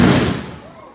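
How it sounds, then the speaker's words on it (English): A single Memorial Day firework bursts with a loud close boom that decays over about a second. "We'll hear a few fireworks, which will scare a few people"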